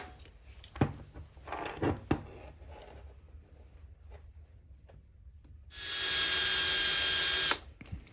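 A small electric drill with a tiny bit whines loudly and steadily for about two seconds near the end, after scattered clicks and handling noises.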